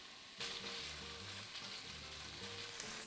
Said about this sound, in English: Then brown 8 ounces of ham.